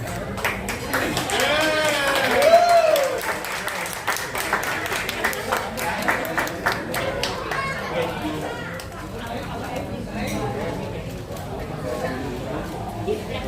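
Clapping from guests at a 15th birthday celebration held in a shop, steady applause running throughout with chatter, cheering voices and a brief whoop layered over it.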